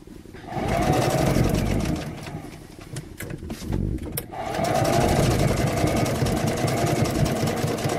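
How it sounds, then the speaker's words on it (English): A 1968 Singer sewing machine, once used in high school sewing classes, stitches fabric with a loud, fast mechanical whir in two long runs separated by a short pause with a few clicks. "It's a 1968 Singer that used to be used in high school sewing classes."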